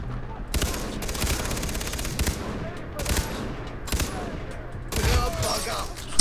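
Gunfire in the video game Far Cry 3, with bursts of shots and sharp reports across the scene, including a headshot, loud and close over steady game ambience.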